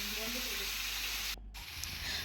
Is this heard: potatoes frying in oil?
yes